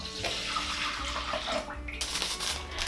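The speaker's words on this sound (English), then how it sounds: "Start with dissolving the yeast in lukewarm milk." Lukewarm milk is poured into a bowl to dissolve instant dry yeast for Norwegian fastelavnsboller buns, a steady close liquid stream splashing continuously with no talking.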